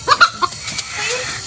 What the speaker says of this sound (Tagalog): Ay, manok ah.